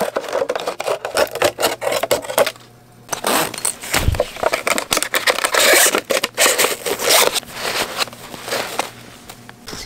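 Air tent entrance zipper pulled open from top to bottom at a winter seaside campsite, a close, rasping scrape in repeated strokes with short pauses in between.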